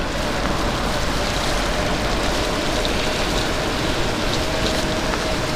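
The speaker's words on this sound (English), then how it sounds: "Hopefully by the time I get out from Asda, the rain will calm down a bit." Heavy rain pours outside an Asda supermarket, a dense, steady hiss of drops on hard surfaces that stays constant and close with no voices.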